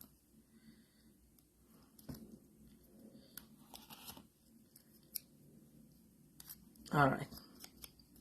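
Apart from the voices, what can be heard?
scissors cutting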